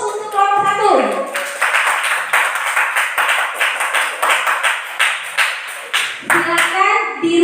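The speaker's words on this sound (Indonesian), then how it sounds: "beri aplaus untuk kelompok 1" Classroom applause for group 1, a burst of many children's hands clapping in a fast, steady patter lasting several seconds, loud and close, with voices speaking briefly before and after.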